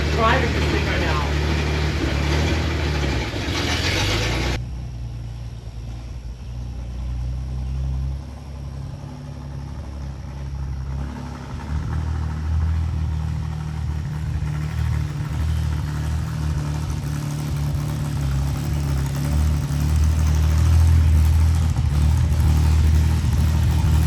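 A rare old custom car, sitting for 40 years or more, runs with a steady low engine rumble throughout, a brief louder rev near the start, and voices talking over it.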